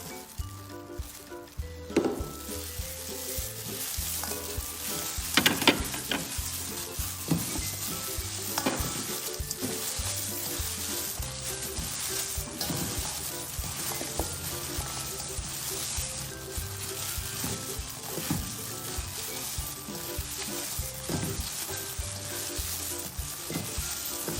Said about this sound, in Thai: จะเป็นกุ้งแห้งนะเจ้าใส่ไปเลย แล้วก็บอกว่าคั่วนะเจ้า